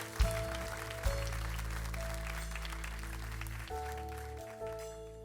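A church congregation applauds steadily, a dense wash of clapping that carries on throughout over a low sustained musical backdrop.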